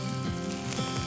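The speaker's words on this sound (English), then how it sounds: "Crispy bacon." Bacon sizzling and crisping in a pot over an open fire, a dense steady crackle and hiss up close, brief and alone.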